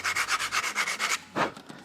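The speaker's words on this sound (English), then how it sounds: "Just give it a sand off there." Quick rhythmic rubbing strokes of sandpaper on the ABS plastic edge of a TIE pilot helmet, about eight close strokes and then one last short scrape.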